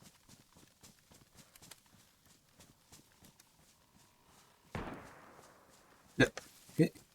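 A new rifle fires in DayZ update 1.23: two sharp, loud shots about half a second apart close up. They follow a heavier blast with a fading rumble, and quiet footsteps and movement come before.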